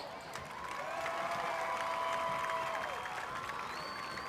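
Faint, distant applause from a high school audience at a Weslaco versus Donna game, a soft steady wash of clapping lasting a few seconds, with a tone ringing over it.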